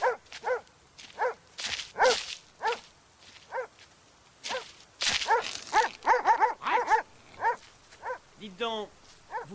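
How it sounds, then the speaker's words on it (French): Dog barking in repeated sharp, loud barks through a cold, blustery scene, with people talking around and between the barks. "vous ne pouvez pas tenir votre cerbère?"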